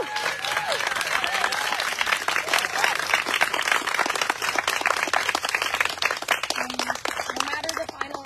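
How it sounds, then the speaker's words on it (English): Applause at a Survivor-style final tribal council, a crowd's sharp, rapid, sustained clapping close to the microphone with a few cheers and voices mixed in. "let's just give them a round of applause"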